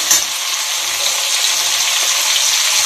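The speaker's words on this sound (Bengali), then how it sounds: "সামান্য একটু জল দিলাম" Water poured into a pan of cooking tomatoes brings on a loud, steady sizzle and hiss that carries unbroken for a few seconds, close up with no voices.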